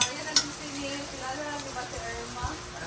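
Ricados sizzle as they are sautéed in a deep cooking pot, a steady hiss of frying with occasional knocks of stirring against the pot.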